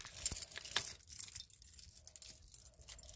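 A couple of keys jangling and clinking in close, quiet bursts as someone searches among them, with soft rustling between the clinks.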